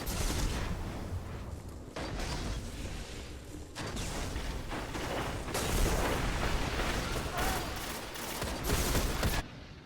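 Rapid-fire sniper rifle shots crack in quick succession during a Destiny Trials of Osiris match, fairly faint and mixed with game effects, with several bursts across the stretch.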